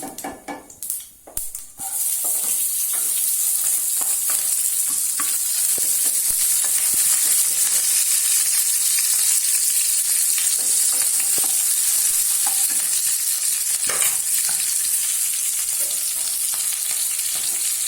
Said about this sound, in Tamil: நல்லா பச்சை மிளகா போட்டு வதக்கினா தான் காரம் குறவாக இருக்கும்